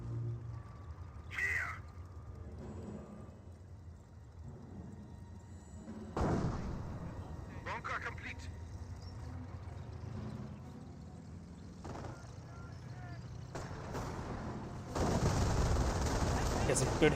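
A Calliope rocket artillery barrage in a Company of Heroes match sounds as bursts of rapid gunfire and booming impacts, with a heavy roaring salvo near the end. A commentator talks over much of it.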